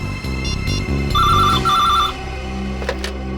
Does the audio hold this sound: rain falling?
no